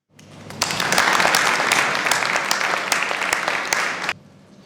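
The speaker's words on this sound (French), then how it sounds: "on va vous applaudir pour ça" Enthusiastic applause from a large audience at a company New Year's greetings ceremony, starting quickly, holding steady and loud with dense clapping for about four seconds, then stopping abruptly.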